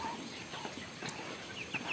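Chickens on a rainy farm give a few soft, faint clucks and short calls against a low background murmur.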